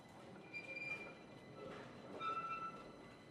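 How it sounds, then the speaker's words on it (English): An old 1500 series Milan tram on Line 1 rumbles along with brief, thin wheel squeals, heard fairly quietly from on board and without speech. "We can now take a ride on board one of the old 1500 series trams running on Line 1"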